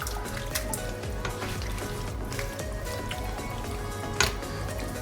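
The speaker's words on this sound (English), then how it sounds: "Now we'll look at adding some water." Water is poured into a pot of beef mechado simmering with soy sauce, lemon, bay leaves and pepper, giving a steady close liquid splash and bubbling with a sharp clink near the end.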